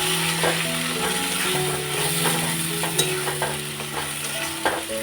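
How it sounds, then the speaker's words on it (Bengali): Egg curry masala sizzling and being stirred in a pan, a continuous frying hiss with repeated scraping and clinking strokes of the spoon, close and steady with no talk. "সেই মশলাটা এখন ভেতর দিয়ে একটু কষাবো ভালো করে কষিয়ে জল দিয়ে দেবো"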